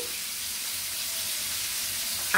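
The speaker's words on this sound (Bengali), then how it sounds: "দুপুরবেলায় আজকে হচ্ছে মাছ ভাজি" Fish fries in a pan at midday, a steady hissing sizzle holding evenly throughout with a faint clatter at the very end.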